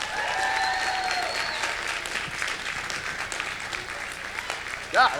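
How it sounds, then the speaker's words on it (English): Audience at a Hal-Con 2015 fan convention Q&A applauds for voice actor Kirby Morrow, a steady, dense wash of clapping and crowd noise for about five seconds, with brief whistles or cheers near the start and a short louder burst at the end. "Let's give him a round of applause, everyone."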